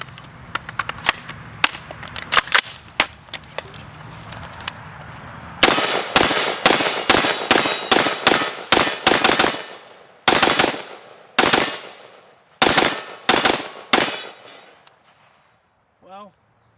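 Rapid volleys of gunfire from a modern rifle, sharp cracks fired in quick succession with echoing tails, first faint under chatter, then loud and close in fast bursts before falling silent.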